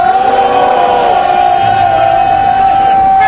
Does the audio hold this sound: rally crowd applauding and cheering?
yes